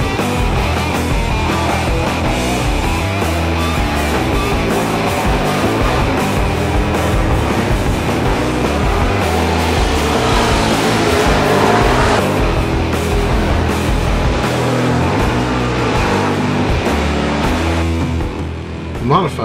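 Modified dirt track race cars roar around Valley Speedway in a continuous loud engine drone, with revving swells and a busy crowd of motors, and a voice speaks over the racing.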